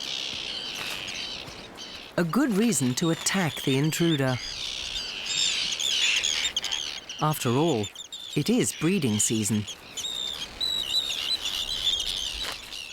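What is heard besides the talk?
seabird colony calling during breeding season in Canada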